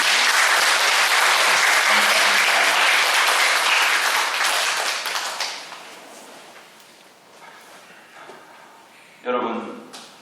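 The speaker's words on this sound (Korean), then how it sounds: "우리 박수 한번 하겠습니다" An audience at a gathering honouring elders over 65 applauds: a loud, dense, sustained clapping that fades away after about five seconds, followed by quieter room sounds and a brief final burst of noise.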